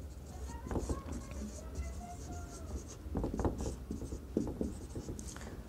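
Pen or chalk scratches across a board or paper in short strokes during a Bengali physics lesson on lenses, faint under a teacher's voice speaking throughout.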